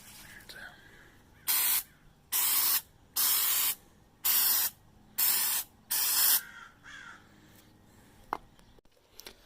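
Spray paint sprayed onto cardboard in six short, sharp hissing bursts, each about half a second with brief pauses between, close and fairly loud against a quiet room.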